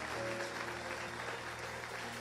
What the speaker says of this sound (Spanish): Den un aplauso fuerte a nuestro Señor.